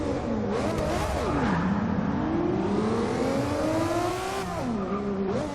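A car engine revs hard inside a tunnel, loud and echoing, pitch climbing and dropping through several gear pulls with a booming reverberant rumble.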